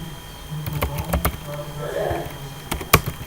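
Typing on a computer keyboard while searching Google: a quick burst of clicky keystrokes, several spaced taps, then a faint murmur of speech before a few sharper final key presses.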